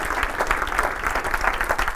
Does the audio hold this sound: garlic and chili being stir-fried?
no